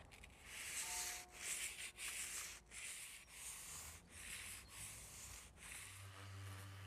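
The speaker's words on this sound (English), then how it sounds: "make sure that you don't actually rub the sanding paper on and scratch all the glass" Hand sanding a window frame with sandpaper, a series of rhythmic scratchy strokes back and forth, close and fairly quiet, with no talking.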